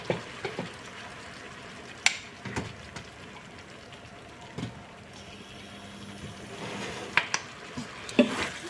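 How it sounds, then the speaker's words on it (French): Soba noodles stir-fry in a pan with a low, steady sizzle, broken by a few sharp clacks and scrapes from stirring, all fairly quiet and with no talking. "On mélange tout en cuisant le tout"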